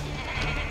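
A short, close sheep bleat from the video game Tak and the Power of Juju, a single nasal wavering cry lasting under a second.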